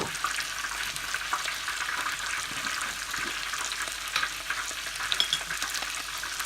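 Ginger and garlic frying in olive oil, a continuous crackling sizzle with scattered small pops and stirring scrapes, close and steady throughout.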